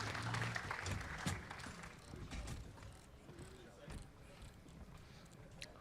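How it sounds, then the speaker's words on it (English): A MINECON convention audience applauds the Mindcrack gaming group with a burst of clapping that tapers off, while voices talk over it. "applause for these guys"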